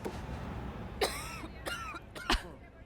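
Several short, close coughs break out one after another over a low background murmur, each a sharp throaty burst.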